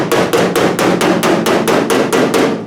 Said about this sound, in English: So I took my hammer,